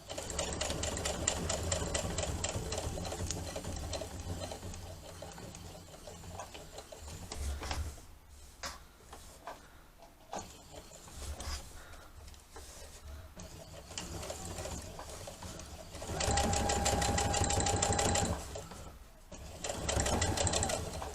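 A sewing machine stitches fabric for an owl clock prototype, running in rapid mechanical bursts separated by quieter pauses while the fabric is turned at corners.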